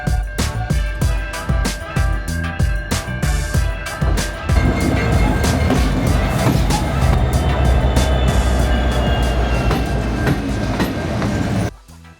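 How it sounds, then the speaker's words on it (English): A train rumbles past close by at a road crossing in Helena, Montana, wheels clacking rhythmically over the rails, then a steady loud roar that cuts off abruptly at the end. "they like to sit in their cars and they like to watch the trains go by"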